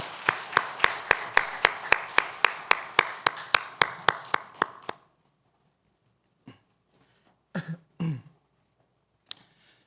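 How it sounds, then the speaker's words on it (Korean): A church congregation claps in unison during a Sunday worship service, about fifteen sharp, evenly spaced claps in a steady rhythm that stop abruptly, followed by near silence with a few coughs and small stirrings. "하나님께 영광의 박수 올려드립시다."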